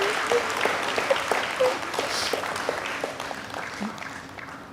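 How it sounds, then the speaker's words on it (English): A convocation audience at Ashoka University gives Dean Brar a round of applause, dense clapping from many people that gradually thins and fades toward the end. "Let's give another shorter round of applause or a bigger round of applause to Dean Brar"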